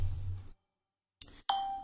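A mobile phone ringtone plays: a short burst of sound, a brief silence, then a clear bright chime tone that rings out and holds steadily at close range.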